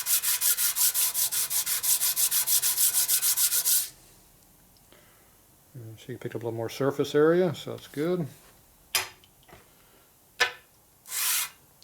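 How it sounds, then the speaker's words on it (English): A warped cast part from a 1965 Harley-Davidson panhead 74ci FLH engine being rubbed on a sanding block makes a rapid run of rhythmic rasping strokes that stops abruptly, followed by someone talking and a few isolated scrapes. "See how this one's more warped, so it needs a little more sanding."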